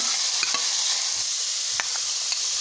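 Chopped carrots and bell pepper fry in a pan with carom seeds for raw potato kababs. A loud, steady sizzle fills the scene, broken by a few sharp spoon scrapes as the vegetables are stirred.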